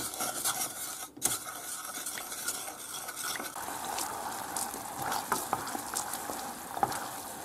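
Stirring in a cooking pot holding sugar, lemon and cinnamon, with a steady scraping and clinking of the utensil against the pan over a bubbling, sizzling background. The sound is close and continuous, with no voices.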